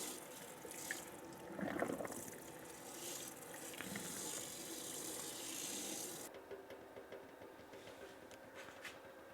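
Hot water from a BougeRV portable propane water heater pours into a camping sink at a campsite, a steady faint running trickle with some mechanical rattle, easing toward the end.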